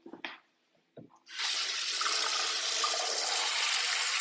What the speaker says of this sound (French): Et là, je vais rajouter ma quantité d'eau.